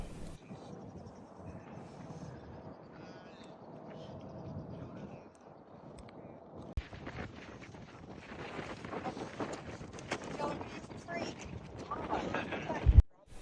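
Gusty wind on a mountain summit on the Cholla Trail buffets the microphone in uneven rushes, stronger in the second half, with people talking faintly underneath.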